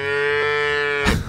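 Cows moo loudly on a farm in the video game Unturned, one long sustained low moo followed by a sharper, shorter call near the end, alone with no talk.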